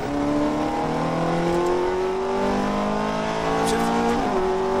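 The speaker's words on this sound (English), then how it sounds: "Start accelerating now. Full throttle." A race car on a track at full throttle, the engine's harmonic whine climbing steadily as it accelerates, with a brief dip and recovery near the end at a gear shift, loud and close; a voice speaks over it.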